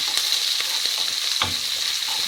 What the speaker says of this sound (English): let those onions cook through